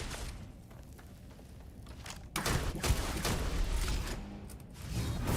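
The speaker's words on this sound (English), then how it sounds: "Hey, who's shooting at me?" Enemy gunfire in the sci-fi game Starfield, a dense rumbling burst of shots and thuds that swells partway through over a constant noisy game background.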